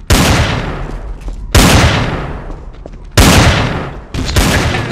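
Heavy gunfire in the video game Trouble in Terrorist Town: three loud, sharp bursts, each decaying into a reverberant tail, with a fourth starting near the end and talk faintly underneath.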